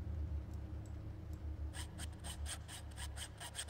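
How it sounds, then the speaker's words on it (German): A hand saw cutting through metal in the horror game The Beast Inside: after a quiet, low-humming stretch, a quick rhythmic run of rasping back-and-forth strokes begins and continues to the end. "Eine Säge wie diese kann vielerlei Hindernisse aus Metall durchtrennen."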